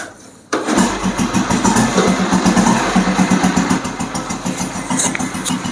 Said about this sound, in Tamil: இன்ஜினோட பீட் எப்படி இருக்குன்னு பாருங்கள்.